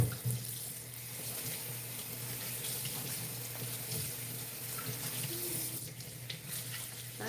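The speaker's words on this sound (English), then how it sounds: "over here washing the plantains to be using." Tap water runs steadily into a sink while plantains are washed under it, a continuous close splashing hiss with no talk.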